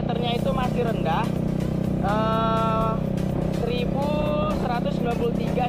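A 2017 Yamaha XMAX scooter engine runs with a steady, close drone while someone talks over it, along with some tonal whines rising in the background.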